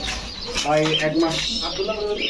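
Pigeons for sale at a bird market give soft, low coos at close range. A voice talks over and around the calls.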